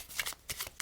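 Quick riffling bursts of playing cards being shuffled overhand, several short flicks close by, quiet and without speech.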